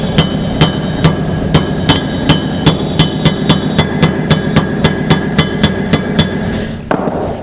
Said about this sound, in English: You can tap them in gently.